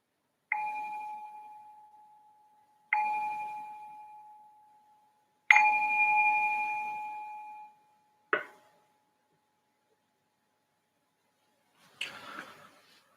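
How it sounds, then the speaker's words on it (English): A meditation bell rung at the start of a guided meditation session: three clear, sustained rings, each decaying slowly, followed by a short damped clink and a faint rustle, close and alone in a quiet room. "So I'll just ring this bell to signal the start of this first session."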